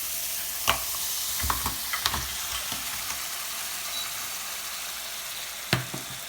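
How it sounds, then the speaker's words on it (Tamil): Crab frying in masala for a Tamil-style crab fry, a steady loud sizzle with a few sharp scrapes and knocks of a ladle stirring the pan, and no voices. "போட்டுட்டு கொஞ்சம் நல்லா கிளறி விடுங்க இன்னும் கொஞ்சம் மசாலா இறங்கட்டும்"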